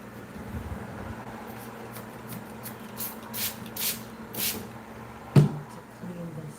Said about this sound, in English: I'm just going to spray a little bit of water with setting lotion